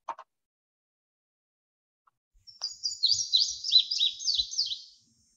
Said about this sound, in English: they have a series of sharp, clear, high-pitched notes and are often in couplets